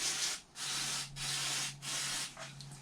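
Aerosol spray hissing in four short bursts with brief pauses, applied to the sealing surfaces of a Mitsubishi 4D56 engine head from a Mitsubishi L200, close and steady over a faint hum.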